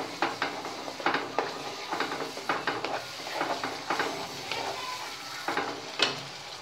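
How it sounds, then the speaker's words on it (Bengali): Spice paste with tomato puree frying in a pan for a yogurt fish curry, with repeated scraping and clinking of a utensil against the pan over a low sizzle, close and steady. "ভালো করে এবার মশলাটাকে কষাতে হবে।"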